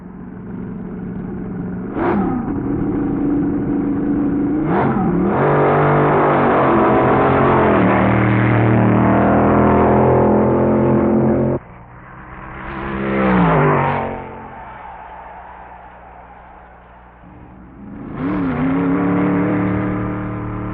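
Drag racing cars from 1961 make time-trial runs at Indianapolis Raceway Park: engines roar and rev hard in long loud passes, then fade, followed by another car accelerating up close, with sharp gear changes and no voices.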